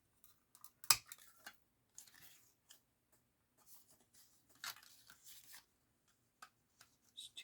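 Scissors snipping paper while making a postage file folder, a few faint scattered cuts and rustles with one sharper snip near the start, close and quiet without speech.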